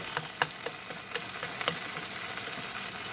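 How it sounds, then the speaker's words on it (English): Chicken fried rice sizzles steadily in a single pan, close up, while a utensil scrapes and taps around the edges in irregular clicks. "just keep stirring that on the edges there"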